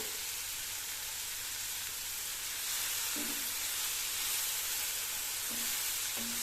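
Slices of bitter gourd fry over full flame in hot oil, giving a steady, even sizzle and hiss throughout, with a few faint clinks of a utensil partway through.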